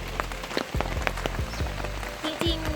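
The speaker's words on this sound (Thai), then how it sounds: "แต่ฝนตกไปหน่อย" Rain falls steadily at a tent campsite beside the fourth tier of a waterfall in Kanchanaburi, Thailand, a soft constant patter with scattered nearby drops and brief faint voices under it.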